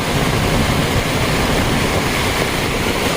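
Rushing floodwater pours past a banyan tree during a storm, a loud, dense, unbroken roar of flowing water with no voices.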